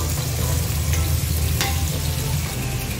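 Sliced onion frying in a pan for a mutton keema ball curry, giving a steady, loud sizzle that continues without a break, with a faint stir scrape.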